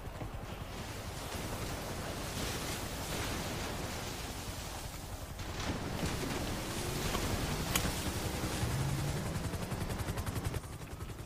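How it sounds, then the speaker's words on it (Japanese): Ocean waves in the video game GTA V wash in a steady, continuous surf, low and soft in level, with a slight swell in the second half and no voices. "波の音じゃないですか"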